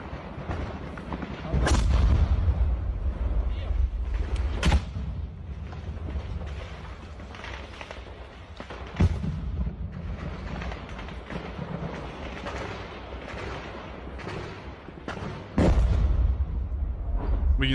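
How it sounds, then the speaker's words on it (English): Sizable artillery shells explode during a firefight in the Ukraine war. Several heavy booms fall at irregular intervals over a constant rumbling background of distant combat. "sizable artillery shells are landing in the midst of this firefight based off of the sound of the explosions themselves."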